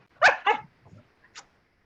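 A pet dog lets out two close, loud barks, followed by a few quieter whimpering yelps fading off.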